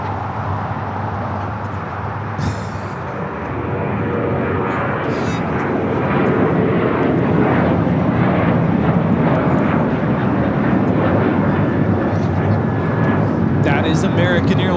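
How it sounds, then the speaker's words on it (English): An American Airlines Boeing 737-800 takes off at Los Angeles International Airport, a loud, broad jet roar that swells and holds steady as the engines spool up, heard from nearby with a faint voice over it. "That is American Airlines 1979 taking off to Chicago on the 737-800"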